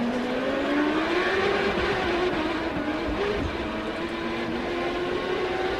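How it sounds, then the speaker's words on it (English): Onboard engine note of Paul Tracy's race car at the 2003 Grand Prix of the Americas, a steady high droning whine rising and easing slightly with speed, loud and close with no talk. "Let's get a look from on board Paul Tracy's car following Servia."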